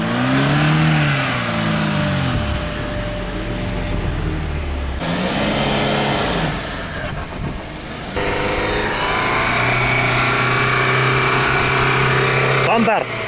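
A Lada Niva on stock tyres revs its engine while crawling through deep mud, with the mid-pitched engine note rising and falling loudly through several surges as people talk over it.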